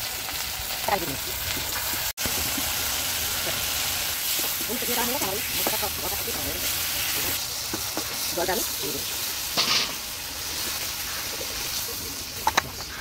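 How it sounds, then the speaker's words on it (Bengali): Potatoes and tomato frying in a pan with ginger paste, a steady sizzle and hiss with occasional stirring scrapes, while someone talks over it in a home kitchen. "এইবার এর মধ্যে আমি টমেটোটা ঢেলে দিচ্ছি"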